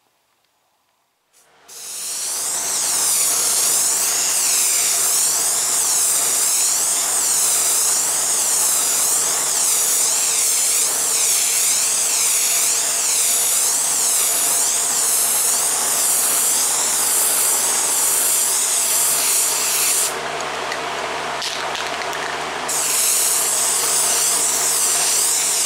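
A steady, loud hiss of a spray gun applying truck bed liner coating to a fiberglass dashboard pad runs continuously after a brief quiet start, with a short dip in intensity near the end.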